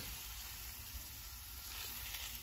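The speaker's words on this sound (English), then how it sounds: "We're going to add our shrimp mixture right on top of there." A shrimp mixture for seafood grits sizzles in a pan, a steady, faint, close frying hiss with no voices over it.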